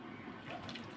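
Water poured into flour to make dough for chicken puli pitha, a brief, soft, quiet splashing trickle lasting about a second.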